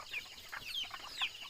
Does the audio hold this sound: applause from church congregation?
no